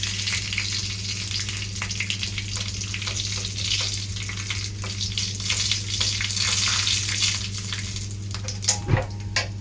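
Green chilies crackling and sizzling in hot oil, a continuous fry with scattered pops and a steady low hum underneath.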